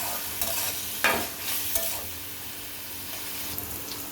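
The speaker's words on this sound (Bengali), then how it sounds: "কাঁচামরিচ দিলাম তেল দিলাম ভেজে নেব কাঁচামরিচ" Green chilies sizzle and fry in hot oil in a pan, with steady crackling and a few stirring scrapes, close and continuous.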